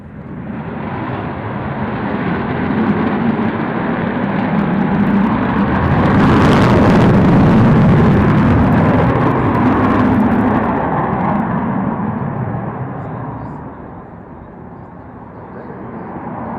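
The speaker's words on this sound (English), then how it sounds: "when they turn on the taps on those 4 big Olympus engines" An Avro Vulcan bomber with four big Olympus jet engines roars past at an airshow, a loud continuous rumble that swells to a peak and then slowly fades, with no voices.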